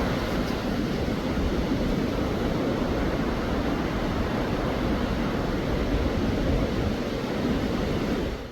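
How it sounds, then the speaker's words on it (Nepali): A mountain river fed from Gosaikunda in Rasuwa, Nepal, rushes in a steady, loud, broadband roar for the whole stretch, with no voices over it. "क्या हरियो क्लियर गोसाइकुण्डबाट आएको खोला हो"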